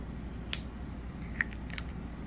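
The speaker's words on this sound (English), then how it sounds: "So you're gonna cut, leaving a little tail." Scissors snip crochet yarn close by, two or three quick, crisp clicks over a quiet room tone.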